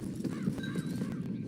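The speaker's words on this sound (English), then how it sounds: "Get on the horse there." Horse hooves clop steadily while a horse gives a short whinny in the Red Dead Redemption 2 video game, both sounds steady and fairly close against a dense background bed.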